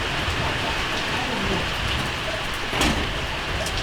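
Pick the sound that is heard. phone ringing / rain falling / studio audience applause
rain falling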